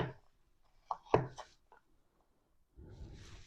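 A knife dices frozen fat on a cutting board, giving a few sharp, close chopping knocks spaced irregularly, then a short scraping rustle.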